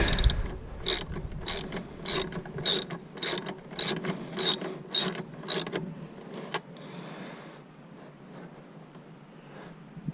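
Rapid bursts of ratchet clicking while snugging a bolt during a SXTH Element intake install on a Hyundai Veloster N, about nine close, rhythmic clicking runs, then quieter handling noise.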